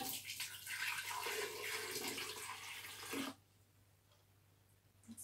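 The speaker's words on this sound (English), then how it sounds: "open your blender or your smoothie maker and add in your water" Water pours into a blender or smoothie maker with a steady splashing rush for about three seconds, then stops, leaving a quiet room.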